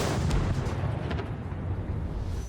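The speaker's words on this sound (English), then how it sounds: "However, a Javelin missile had already targeted it, and an explosion occurred." A Javelin missile strike on a T-72 tank in a Russian convoy sounds as a dense, rumbling explosive roar with a few sharp cracks early on, loud and sustained throughout.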